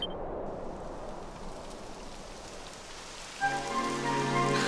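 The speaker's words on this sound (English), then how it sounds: "It would have to go and start raining, wouldn't it?" Rain begins falling in the Dragon Quest XI video game, a steady soft hiss of drops on surfaces throughout, quiet and even, with a gentle musical tone entering near the end.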